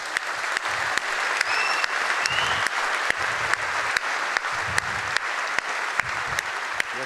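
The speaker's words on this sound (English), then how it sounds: "Please give them an applause." Audience applause at the SHA2017 hacker camp opening in Zeewolde, a sustained wash of clapping with regular sharp loud claps close by and faint murmurs underneath, running for several seconds.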